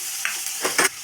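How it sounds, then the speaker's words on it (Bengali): Chopped onion and green chili dropped into hot mustard oil in a kadai, giving a steady frying hiss with a few short, sharper sizzling bursts over about a second. "তারপরে আমি পেঁয়াজ কুচি লঙ্কা কুচি দিয়ে দেবো"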